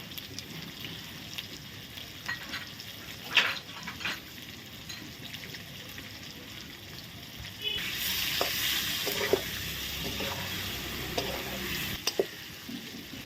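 Potato chunks fry in oil with turmeric, a soft continuous sizzle that swells louder midway, with occasional light stirring clicks.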